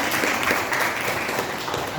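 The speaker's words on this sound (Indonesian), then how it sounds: "Tepuk tangan dulu." Applause from a classroom of students, a steady wash of clapping held at an even level for the full two seconds, with no voices rising over it.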